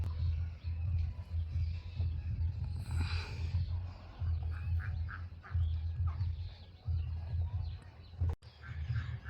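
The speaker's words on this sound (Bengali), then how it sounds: "হাঁসগুলো কিভাবে দল বেঁধে যাচ্ছে, এটাই গ্রামের সৌন্দর্য।" A flock of ducks quacking at a moderate distance in a village, their calls rising and falling in bursts over a low rumbling background.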